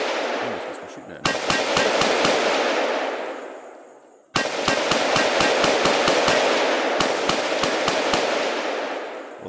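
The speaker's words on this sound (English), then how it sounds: "Let's grab the AR here." AR rifle shots in a VR practical shooting game, two strings of sharp, evenly spaced rounds, loud and close, each string trailing into a long reverberant decay.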